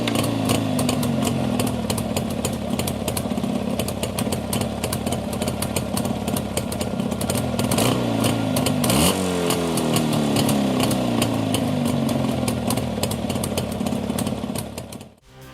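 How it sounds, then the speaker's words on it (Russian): A Jawa 350 twin-cylinder two-stroke motorcycle engine revs and burbles loudly and steadily, with a rising and falling rev swing midway, alone without voices. "по звуку двухцилиндрового двухтактного двигателя у нас являлась, конечно же, Ява 350-638"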